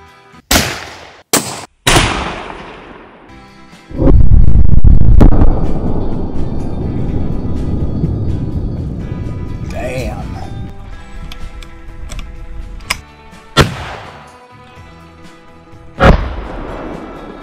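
A 1964 Sauer and Sohn drilling gun firing outdoors: several loud, sharp reports spaced seconds apart, one heavy blast followed by a long rumbling decay, with brief mechanical clicks and some talking between shots.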